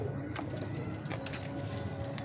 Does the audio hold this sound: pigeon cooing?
yes